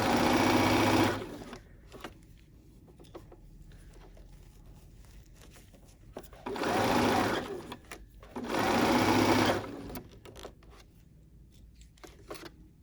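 A sewing machine with a walking foot stitches a fur infinity scarf in three bursts, each lasting a second or two and separated by quiet pauses with faint handling noises.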